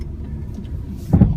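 A 2009 Mini Cooper S Clubman starts by push button, its engine catching abruptly near the end as a brief loud burst over a low idle-like rumble, close by and with no talk.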